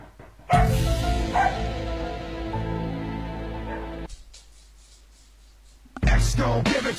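A dog barks loudly, a sustained run of yapping barks and yips up close, then falls quiet before a final sharp burst.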